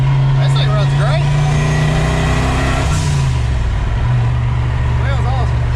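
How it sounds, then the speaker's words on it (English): Turbocharged Foxbody Mustang running steadily up close with a low engine drone, with short rising and falling turbo whistles and spooling sweeps cutting in near the start and end; voices talk faintly over it. "That blowout valve popping, turbo spooling."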